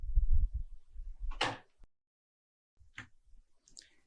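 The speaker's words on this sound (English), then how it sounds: "Left and right slide doors can be repositioned to the front." Sliding doors on an 83-inch commercial horizontal freezer display cabinet, a short rolling slide followed by a soft click and a faint later slide, after some low handling thumps.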